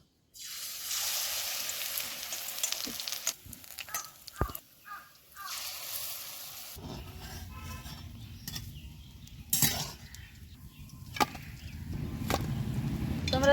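Besan-coated kulekhara leaf chops dropped into hot oil in a village kitchen: sizzling and bubbling frying with scattered clinks and handling knocks, moderately close and fairly quiet.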